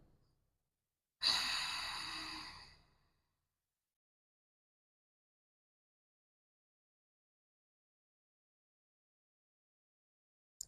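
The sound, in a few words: Ujjayi breathing during yoga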